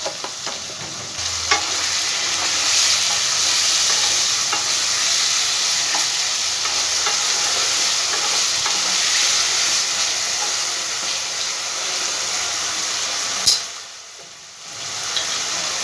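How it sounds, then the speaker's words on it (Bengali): Potatoes frying with salt and turmeric in a pan for a Bengali banana flower curry give a steady, close sizzle throughout, with one brief clatter near the end. "আর দেবো অল্প সামান্য হলুদ দিয়ে আলুটাকে আমি একটু ভালো করে ভেজে নেবো আগে।"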